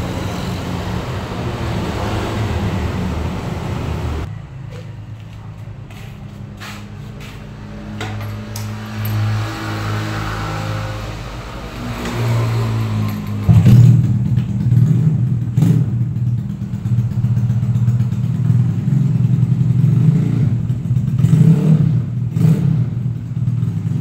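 Yamaha Jupiter motorcycle with a bore-up 5TP 53.5 piston, standard valves and a special camshaft setting, starting up and then idling and revving, a loud steady engine drone that rises in bursts, close by with no talk.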